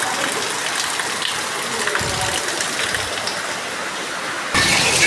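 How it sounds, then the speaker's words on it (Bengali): Heavy rain pours down steadily, a loud, dense hiss of falling water and runoff that swells louder near the end. "আবার জোরে বৃষ্টি এসছে"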